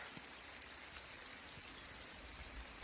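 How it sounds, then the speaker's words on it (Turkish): Steady rain patters continuously, a soft even hiss with occasional louder drops, faint and unbroken, with no voices. "Yağmurun sesini dinleyelim biraz."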